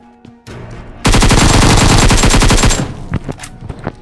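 Sustained burst of automatic machine-gun fire in a battle-royale video game, a loud rapid rattle of dense repeated shots lasting about two seconds, followed by scattered fainter shots and game sounds.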